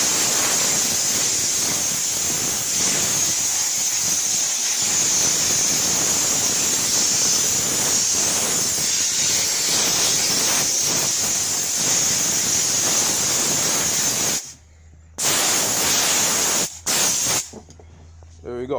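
A steam cleaner hisses loudly and steadily across bus seats for most of the time, a continuous close spray-like rush, then cuts off abruptly near the end with brief short bursts.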